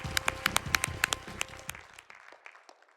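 Live crowd at the AGDQ 2019 charity speedrun marathon clapping after a run of Mohawk & Headphone Jack, with a brief burst of rhythmic, evenly spaced applause that quickly thins and fades out.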